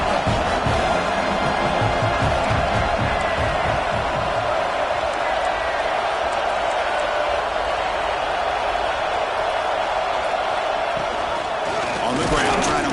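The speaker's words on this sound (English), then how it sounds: "And here comes the noise. This crowd is trying to inspire this defense to make a big red zone stop." A football stadium crowd roars steadily and loudly as fans cheer on the defense during a red zone stand in a college game, a dense continuous wall of noise with a play-by-play voice heard over it.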